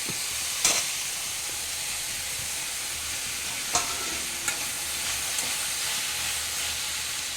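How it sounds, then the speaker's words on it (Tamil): Chopped tomatoes sizzle and fry steadily in a pan for chutney while being stirred, a continuous hiss with a few sharp scraping clicks of the spoon against the pan. "ரெண்டு பெரிய தக்காளி அரிஞ்சு வச்சுருக்கோம் இதையும் இதுக்கு கூட சேர்த்து கிண்டி விடணும்"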